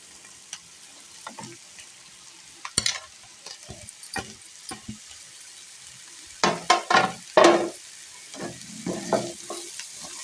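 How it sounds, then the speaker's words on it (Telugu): Raw mango pieces dropped into a chana dal tempering in a pan, giving bursts of frying sizzle and scraping stirs, louder clusters midway, with no talking. "ఇప్పుడు కట్ చేసి పెట్టుకున్న మామిడికాయ ముక్కలు వేసేస్తున్నాను."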